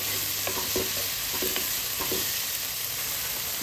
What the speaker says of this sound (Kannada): ಇಲ್ಲಿ ಟೊಮೆಟೊ ಹಣ್ಣು ಚೆನ್ನಾಗಿ ಫ್ರೈ ಆಗಿದೆ